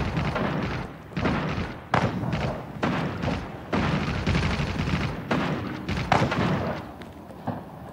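Grenade blasts and gunfire in the mobile shooter game Trooper Shooter come as a dense, loud run of booming thuds and rattling shots, nearly continuous with brief gaps between bursts.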